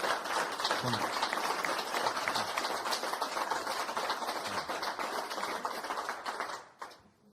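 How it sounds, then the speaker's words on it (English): An audience at a volunteer awards ceremony for a multiple sclerosis charity claps in a dense, continuous round of applause that softens and fades out near the end. "We're going to give a huge round of applause, everyone"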